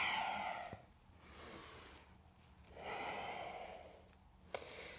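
Slow, deep yoga breaths with audible exhales, the airy rushes of a held pose rising and falling in long waves, close and fairly soft, with a sharp click partway through and no talking.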